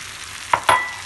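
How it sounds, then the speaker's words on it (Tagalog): Beaten egg goes into a pan of sautéed tomatoes, giving two quick close sizzles and a scraping stir before the frying settles into a soft crackle; no one speaks. "pag naluto na yung ating kamatis, ilagay ang itlog na binati."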